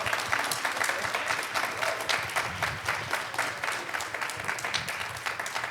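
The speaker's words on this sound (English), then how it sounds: "Let's give our panelists a big round of applause" An audience at a leadership panel discussion applauds the panelists, a dense, sustained burst of many hands clapping that stays loud and even throughout.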